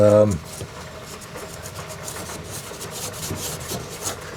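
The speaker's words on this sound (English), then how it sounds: "And now I'm just taking a scuff pad and" A scuff pad rubs over the engine compartment of a 1972 Volkswagen Super Beetle, giving a continuous soft, close scratching and rubbing noise after a short opening voice.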